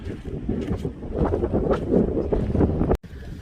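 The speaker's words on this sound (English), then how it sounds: "It's windy as can be right now." Strong wind buffets the microphone in a steady roaring rush on Tigertail Beach, Marco Island, Florida, gusting and rumbling for a few seconds before cutting off abruptly.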